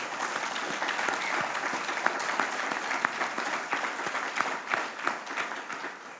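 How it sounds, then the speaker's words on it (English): A crowd at a mayor's address applauds the mayor with continuous, moderately close clapping, steady in loudness with scattered sharper individual claps standing out from the mass. "I'd like to ask you to join me in applauding Mayor Nancy Peckford for her tireless work in advocating for this community."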